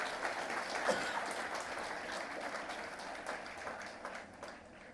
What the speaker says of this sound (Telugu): మనస్ఫూర్తిగా మీరు వాళ్ళని అభినందించడానికి చప్పట్లు